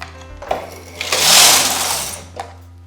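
Knitting machine carriage sliding across the needle bed to knit rows, a short whirring swish that swells and fades with clicks at the start and end, close and alone.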